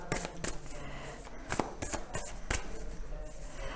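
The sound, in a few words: tarot cards being handled and laid down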